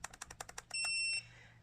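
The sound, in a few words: device beep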